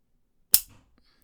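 Colt King Cobra Target revolver fired dry in single action, the hammer falling with one sharp, close metallic snap that dies quickly, followed by a faint click, in a quiet room.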